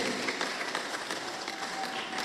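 Audience applause at a youth Christmas celebration of HKBP Makassar church, a moderate, steady patter of many hands clapping throughout.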